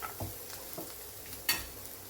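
Cashews go into a hot pan for raw mango chicken chitranna and fry. A steady soft sizzle runs throughout, broken by a few scraping stirs and a brighter clink near the end, with no voices.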